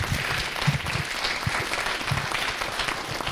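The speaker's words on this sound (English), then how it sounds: "So let's give a round of applause to the panel." A meeting audience applauding a panel, steady close clapping from many hands that runs throughout without a break.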